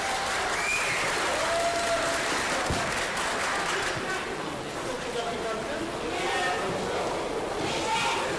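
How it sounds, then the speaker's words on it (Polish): A theatre audience at a Polish stage show applauds loudly and steadily, dense clapping filling the hall from start to finish with scattered cheers mixed in. "Brawa."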